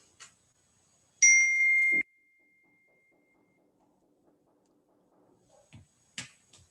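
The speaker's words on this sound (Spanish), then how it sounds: "cuando escuchen la campana, van a ir abriendo poco a poco sus ojos." A meditation bell ends a guided breathing session with one bright ringing strike that holds briefly and then stops short, surrounded by near silence and a few faint clicks and rustles.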